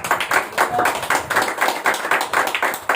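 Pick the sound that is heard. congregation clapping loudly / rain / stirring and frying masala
congregation clapping loudly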